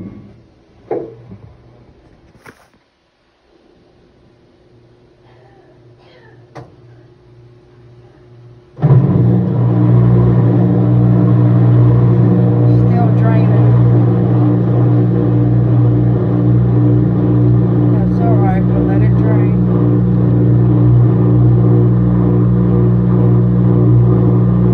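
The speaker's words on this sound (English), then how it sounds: "You can hear the water draining, so we'll let it drain" A Midea smart washing machine on its rinse cycle with a load of white clothes drains water: a few faint clicks and bumps, then a loud, steady pump hum with a low rumble starting abruptly and running on.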